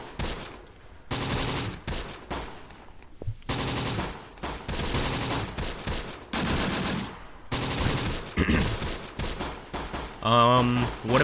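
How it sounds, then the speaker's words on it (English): Machine-gun fire rattles in the World War II strategy game Close Combat: The Bloody First, loud sustained bursts broken by short pauses, with other battle effects mixed in and no speech. "Engage the machine gun, boys."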